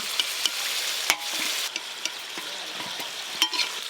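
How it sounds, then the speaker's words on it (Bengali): Meat fries in a pan, giving a continuous sizzle broken by scraping stirs and clicks of a utensil, close and alone without any talk. "এই দেখো মাংস হালকা করে ভেজে নিয়েছি"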